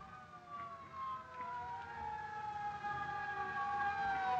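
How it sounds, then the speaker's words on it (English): A fire engine siren in the 1936 film Mr. Deeds Goes to Town wails in a long rising-and-falling tone, moderately distant and growing slightly louder, over faint traffic rumble. "Hey, fire engine!"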